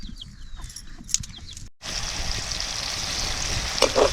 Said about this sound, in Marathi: कढईत कांदा मस्त तेल टाकून परतायला चालू झाला